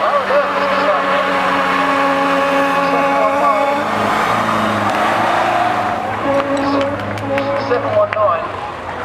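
A van at a demolition derby reverses, engine revving and droning steadily throughout with rising and falling pitch, while a commentator talks over it and scattered clanks of metal are heard near the end.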